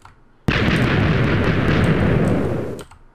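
A Minecraft hybrid sand stacker cannon fires in a single loud, sudden explosive blast that holds as a dense roar for about two seconds before cutting off.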